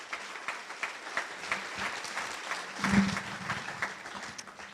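Audience at a 2018 opening-night event claps warmly, steady dense applause throughout with a brief swell near the middle, heard from within the hall.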